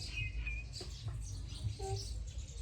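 Faint, scattered sparrow chirps, a few short tweets rising over low background rumble, somewhat distant.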